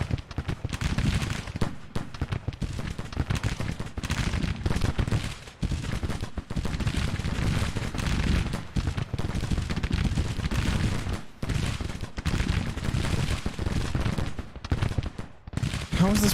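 Infantry gunfire from a Civil War strategy battle in Grand Tactician, with dense, continuous volleys of musket fire crackling and rolling steadily throughout, loud and close.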